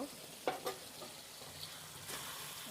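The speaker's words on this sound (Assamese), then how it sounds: "এয়া দিছোঁ 1 চামুচ ঘি।" A spoonful of ghee drops into a frying pan with potatoes and pointed gourd, giving a couple of quick stirring clacks and then a soft, steady sizzle.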